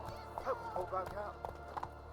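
Roach, a horse in The Witcher 3, galloping with a quick rhythmic run of hooves, faint and close, under someone talking.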